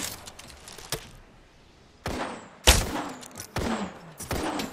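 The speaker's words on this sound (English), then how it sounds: "Taking fire." Gunfire in a battle royale video game: several sharp bursts of shots at irregular intervals, the later ones louder and longer, with quieter gaps between them.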